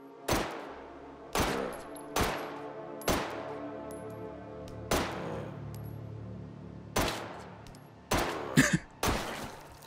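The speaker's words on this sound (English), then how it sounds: "I'm just sitting here shooting at him on the ground." Gunfire in the VR game Hot Dogs, Horseshoes & Hand Grenades: about nine sharp, loud shots spaced unevenly over several seconds, each followed by a short ringing decay, with a brief double shot near the end.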